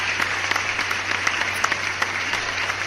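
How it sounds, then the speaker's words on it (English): A recorded applause sound effect plays on a livestream, a steady wash of many clapping hands with crisp individual claps popping out, moderately quiet and continuous without pause. "let me give you all an applause"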